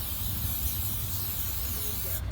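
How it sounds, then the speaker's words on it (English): Cooking spray hisses in a steady continuous burst onto a non-stick pan for salmon, close and fairly loud, ending abruptly near the finish. "Now, I use a cooking spray, okay? So I'm gonna spray it a little bit."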